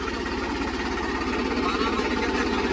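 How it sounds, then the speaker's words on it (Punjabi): Idling engine of a tractor, the 3630 model on a Punjabi farm, running as a steady low, even throb that stays loud and close throughout with no voices over it. "ਹੁਣ ਲੱਗੇ ਆਪਾਂ ਟਰੈਕਟਰ ਬੰਦ ਕਰਨ ਬੋਤਲ ਭਰ ਲਈ ਹੈ"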